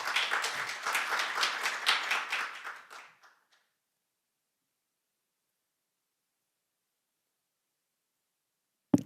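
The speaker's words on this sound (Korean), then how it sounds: "큰 박수로 맞이해 주시기 바랍니다." Audience clapping at an expert symposium on a national water management plan, a dense burst of many hands for about three seconds that quickly thins and stops, leaving silence before a brief knock at the end.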